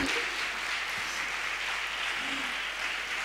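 A church congregation claps for the Lord during a Spanish-language testimony service, a steady wash of many hands that stays even and fairly soft throughout, with a faint voice briefly audible beneath it.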